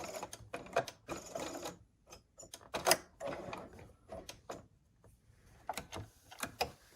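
A sewing machine stitching pieces of a quilt block runs in short, irregular bursts of rapid mechanical clatter separated by brief pauses, close and fairly quiet, with no talking.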